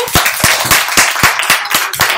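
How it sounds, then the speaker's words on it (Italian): A church congregation at a children's service claps in a loud, quick, steady rhythm, with many hands striking together close up and no talking. "Facciamo un forte applauso al Signore Gesù"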